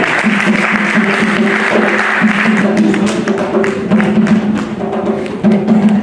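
An audience at a children's live quiz challenge in Paris applauds loudly and steadily, with drums beating a rhythmic pattern underneath and occasional thumps, sustained throughout.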